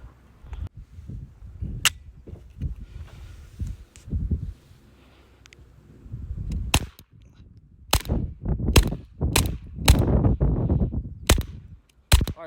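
Suppressed .22LR shots from a Walther G44 rifle fitted with a homemade spoon suppressor, fired outdoors with standard-velocity and subsonic ammunition: a run of sharp, quiet cracks, sparse at first and then in a quicker series, with some handling rustle between shots.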